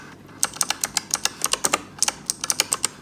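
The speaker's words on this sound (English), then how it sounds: "I think it's like a proper gaming one, like you have to barely touch it and it clicks" Keys clatter on a mechanical gaming keyboard with light-touch switches, a quick irregular run of sharp, close clicks with brief pauses and no talking.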